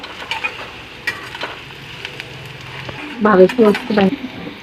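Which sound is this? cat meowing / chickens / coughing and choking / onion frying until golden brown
onion frying until golden brown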